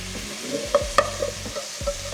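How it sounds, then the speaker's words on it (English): Flour is whisked into melted butter in a pan for a white sauce. A few light taps and scrapes of the whisk sit over a faint, low sizzle, with no talking. "My butter is melted, so I'm gonna add 1 tablespoon of flour. And now we start to whisk."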